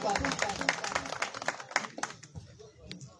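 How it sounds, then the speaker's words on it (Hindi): Applause breaks out at a Pothwari poetry mushaira, bursts of clapping from the audience over roughly two seconds while a voice speaks over it, then fading. "भरपूर तालियां"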